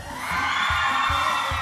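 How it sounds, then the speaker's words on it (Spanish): A studio audience at a TV show roars with cheers, whoops and clapping to vote for a dancer, a loud, dense, sustained burst of crowd noise that swells quickly and holds. "Ustedes con sus aplausos van a ir decidiendo"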